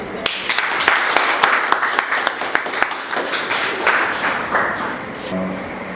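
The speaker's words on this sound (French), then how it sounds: "Et puis je demande l'acclamation." Audience applause for panel speakers at the Festigora 2021 convention panel, a steady wash of clapping with sharp individual claps standing out, fairly close, lasting about six seconds with some voices mixed in.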